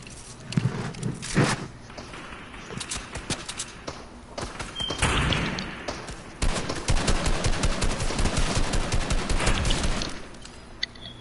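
Gunfire in a video game, with scattered single shots followed by a long, rapid run of repeated bursts, loud and close.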